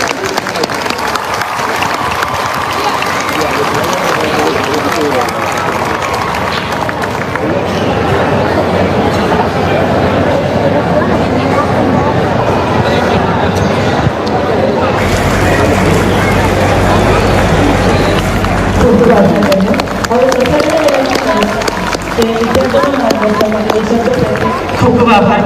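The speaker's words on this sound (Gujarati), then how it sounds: "તાળીઓ સાથે આપણે એમને વધાવી લઈશું" A crowd at an honoring ceremony applauds to welcome guests, with loud, steady, sustained clapping filling the room for a long stretch.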